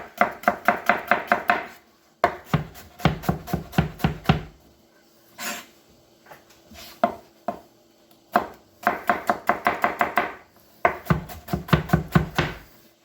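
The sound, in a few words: knife chopping celery, carrots and onions for mirepoix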